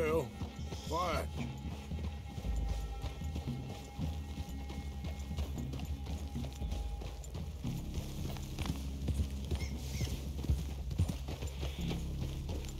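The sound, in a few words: horses trotting in video game Red Dead Redemption 2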